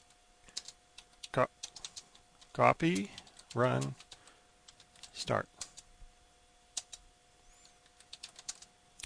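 Computer keyboard being typed on to enter commands while configuring a Cisco router, with sparse clicky keystrokes and a few quick bursts spread through the stretch, interleaved with someone talking.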